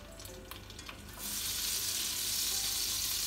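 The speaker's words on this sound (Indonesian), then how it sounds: "Bawang putih, bawang merahnya ditumis." Garlic and shallots hit hot cooking oil in a nonstick wok and begin sautéing, a sudden loud hissing sizzle that starts after a second of quiet clatter and holds steady, close up.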